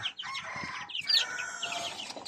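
Darag native chickens gathered at a water drinker, a mix of soft clucks and higher calls, fairly faint and close, with no talking.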